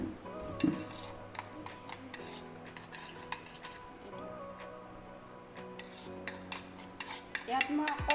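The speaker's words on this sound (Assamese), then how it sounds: "এতিয়া এইদৰে ফেটি ল'ব।" A mixture being beaten in a bowl, a utensil clicking and clinking against the bowl in quick irregular bursts separated by brief pauses, close and fairly quiet with no talk.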